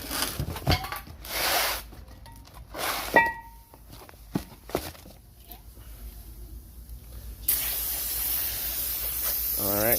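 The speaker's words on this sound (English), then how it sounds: "So here's the brake cleaner. Just spray it on like that," Brake cleaner hisses from an aerosol can onto the front brakes of a Chevy Impala in several short bursts and one longer spray, close by, among workshop clatter and a brief voice.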